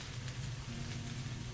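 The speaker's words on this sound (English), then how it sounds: "just the smell and the sound of peppers and onions sizzling" Peppers and onions sizzling in a skillet, a close, steady crackling hiss of frying with no pauses or talk.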